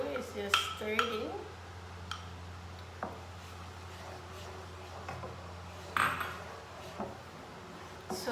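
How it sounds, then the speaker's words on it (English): Egg yolk is stirred into a sardine sauce for fusilli pasta in a pot on a switched-off stove, with scattered metallic clinks and taps of a utensil against the pot under quiet background noise. "add in the yolk. Alright, so all we gotta do is just stir it in."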